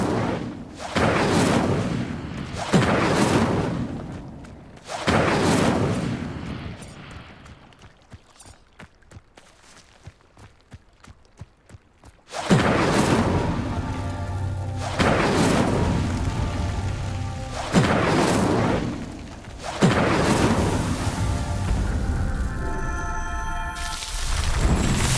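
Repeated fiery bursts of the Incendio spell lighting pyres in the Hogwarts Legacy video game, loud whooshing blasts in a quick series, then a quieter gap with crackling, then another run of heavy rumbling bursts.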